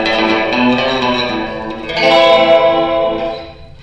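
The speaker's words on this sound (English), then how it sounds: "So I think this is a chorus with the reverb." An electric guitar chord through a one-knob DSP reverb pedal rings out with a shimmering, swirling chorus and a washy reverb tail, a second chord struck midway and left to ring.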